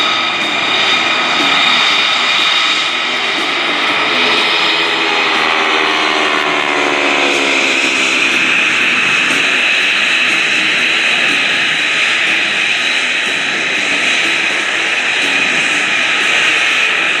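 A warbird airplane with an air-cooled 1,340-cubic-inch Wasp radial engine roars steadily overhead at an airshow, its engine drone loud and continuous with a slight pitch shift as it passes.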